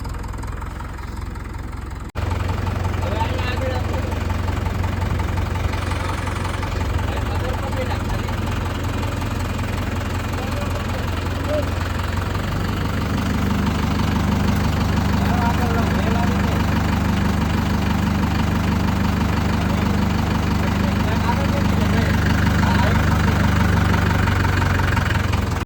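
A tractor engine idles nearby at a farm where a load of groundnut is being filled, a steady loud low chugging throughout with a faint knock, while voices talk over it in the background.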